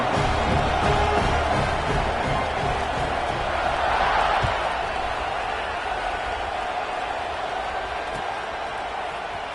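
A football stadium crowd at a Miami vs Oregon game roars steadily before kickoff, a dense, loud, unbroken wall of cheering and noise that eases slightly toward the end.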